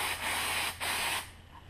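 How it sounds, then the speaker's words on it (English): Contact cleaner is sprayed onto a motorcycle clutch perch in two close hissing bursts separated by a brief pause, the second longer before it cuts off. "I like to spray down the perch too because it gets a little dirty in here sometimes too."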